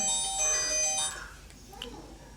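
A mobile phone rings in a chemistry lecture hall: a bright electronic ringtone plays for about a second and then cuts off, leaving faint room noise.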